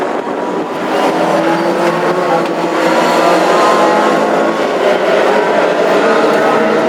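Classic hot rod race cars roar around the Hednesford oval during a heat, a dense, continuous engine din with overlapping revving, steady and loud throughout, with a commentator's voice faintly beneath.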